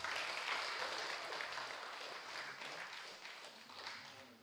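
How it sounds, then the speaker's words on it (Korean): A church congregation at a Sunday gathering gives a round of applause, a soft, fairly distant patter of many hands that holds steady and slowly tapers over the few seconds. "박수 부탁드리겠습니다"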